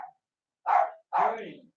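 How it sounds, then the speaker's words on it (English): A dog barks twice at home, two short, close, separate barks with a quiet gap between them. "We've got a doggy barking."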